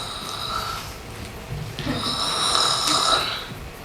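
Rough snoring breaths rise and fall, growing louder toward the end, with faint background noise.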